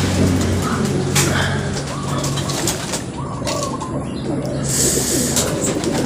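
Racing pigeons coo at the finish of a 74.96 km fun race in Leyte, low repeated coos with chirps and a brief flutter of wings, as someone talks nearby.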